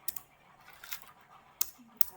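Faint computer keyboard keystrokes, a handful of quick, scattered taps over a low room hiss, heard during PHP coding work.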